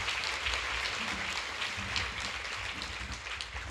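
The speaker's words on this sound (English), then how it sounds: "Let's give them a round of applause." An audience at a women's equity anniversary celebration luncheon applauds steadily and fairly loudly, dense clapping filling the whole stretch without a break.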